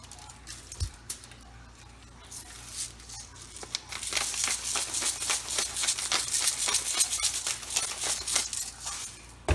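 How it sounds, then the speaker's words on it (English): Aluminium foil crinkling and rustling as a stuffed catfish is placed on it for oven barbecue, soft and sparse at first, then a dense run of close crackles and crumpling over the last several seconds. "Gonna place the fish on the foil now."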